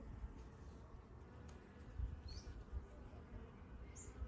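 Honey bees hum in a soft, close buzz at a top bar hive, with a few individual insects droning past near the microphone over a low background.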